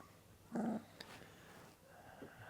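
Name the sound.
dog growling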